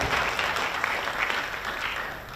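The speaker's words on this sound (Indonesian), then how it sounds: "Jadi kita tepuk tangan untuk kita semua." Audience applause fills a linguistics conference hall in Jakarta at the close of the 17th anniversary event, a steady wash of many hands clapping at moderate level without a break.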